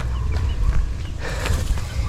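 Chickens cluck softly near at hand while scratching through fallen leaves in a yard, with low rustling and scattered short calls throughout.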